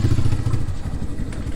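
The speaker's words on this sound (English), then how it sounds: "Start her up." A 2017 Honda Grom motorcycle with an aftermarket fairing starting up, giving a short, loud burst of close, low thumping engine rumble with quick chugging pulses at first that settle into a rough idle.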